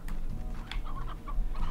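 Chickens cluck in Slime Rancher, a few soft, short clucks close by over a steady low background hum, with no speech.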